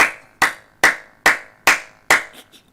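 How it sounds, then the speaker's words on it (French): Six sharp, evenly spaced single claps ring out one after another at a slow, deliberate pace, close and clear with no voices over them. "Applaudissements chers viewers."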